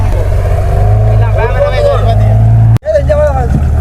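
A boat engine drones steadily at a sailboat race at sea off Araly, Jaffna, loud and close, with someone talking over it and a sudden brief dropout near the end.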